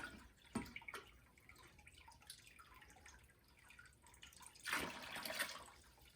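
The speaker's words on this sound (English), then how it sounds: "Let's get some more water in there." Quiet trickling and splashing water being poured into a 55-gallon fish tank, with a louder gush of pouring near the end, heard close by.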